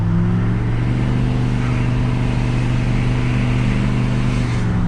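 A muffler-deleted Powerstroke diesel pickup truck cruises uphill in third gear at light throttle, its steady, loud, deep engine drone and exhaust rumble continuous and close throughout.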